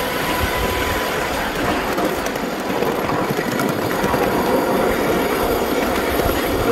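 A live steam work train rolls over the rails at a miniature railway club, giving a steady close rumble of wheels with faint squeals and clicks at the rail joints, continuous and alone with no talking.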